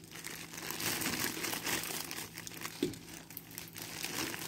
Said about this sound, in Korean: 그 다음에 비닐 장갑을 또 껴보겠습니다.